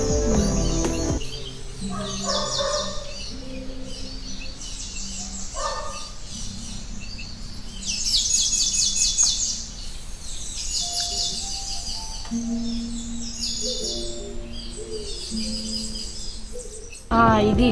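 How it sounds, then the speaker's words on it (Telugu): Bright, repeated sparrow chirps come in short clusters throughout, with faint voices and soft background noise underneath, in Barbados. "sounds పిచ్చుకల sound వినిపిద్దామంటావా"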